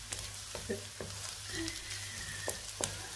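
Shrimp and vegetable spring rolls frying in oil, a continuous dense sizzle with occasional sharper crackles and light utensil taps, close by, with a low steady hum beneath.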